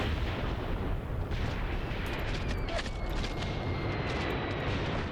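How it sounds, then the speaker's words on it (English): Mortar fire in the war game Graviteam Tactics, a continuous deep rumble of distant impacts and booms over heavy low-frequency noise, with no talking. "Sounds like mortar fire."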